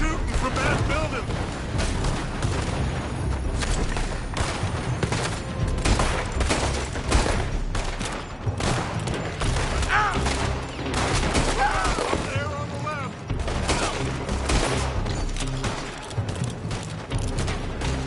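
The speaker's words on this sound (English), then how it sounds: "They're shooting from that building!" Heavy gunfire in Red Dead Redemption 2 as enemies shoot from a building, a dense, loud barrage of overlapping shots and blasts with voices shouting over the battle throughout.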